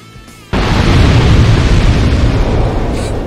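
A loud explosion erupts in the video game Dark Souls 2, bursting suddenly after a quiet moment and holding as a heavy, sustained rumble that slowly fades.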